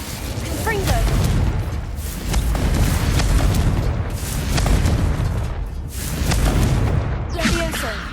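A Confringo spell blast goes off during combat in Hogwarts Legacy, with loud repeated booming bursts in waves over a heavy low rumble, mixed with sharp cracks and shouted spell voices.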